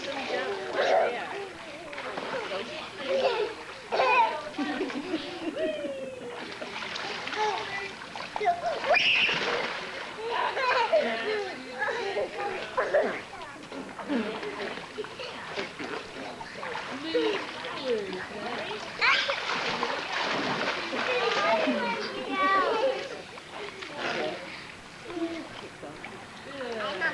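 Children jump and splash into water near a boat, bursts of splashing and sloshing scattered among frequent excited voices and chatter throughout.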